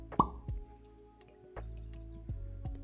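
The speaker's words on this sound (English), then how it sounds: "Good pour here." Oregon Spirit Distillers American bourbon whiskey poured into a glass, a single close, quiet plop and a few soft drips and trickles that follow in a still room.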